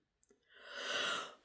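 A single long, breathy yawn swells and then fades, close and quiet, with no other sound around it.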